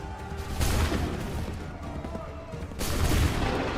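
Musket volley fire in Assassin's Creed 3, a dense crackling fusillade of gunshots at a barricade battle, in two heavy surges amid battle noise.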